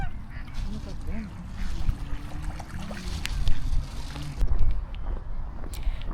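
Swans honking as they approach across water, a cluster of goose-like calls over steady outdoor background noise, with voices chattering nearby throughout.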